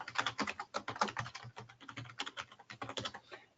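Quick, close keystrokes on a computer keyboard tap out an email address in an uneven stream of light clicks, with no voice over them.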